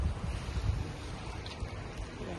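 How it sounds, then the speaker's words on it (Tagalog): Heavy rain pours steadily onto a flooding balcony on a rainy morning, a dense continuous wash of water noise with no talk over it. "Medyo malakas-lakas naman ng ulan."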